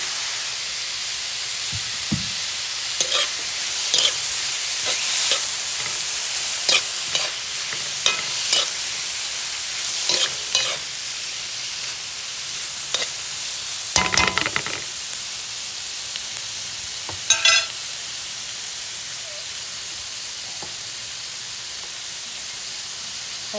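Shrimp frying in a pan with garlic, onions and tomatoes for a Filipino butternut squash dish, a steady loud sizzle broken by repeated scraping stirs of the spatula, with no voices.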